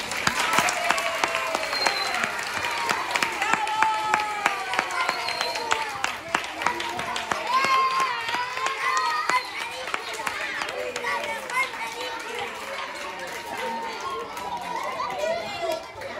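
A young audience at a primary-school theatre performance bursts into sustained clapping that runs the whole stretch, mixed with lively children's chatter and voices over the applause.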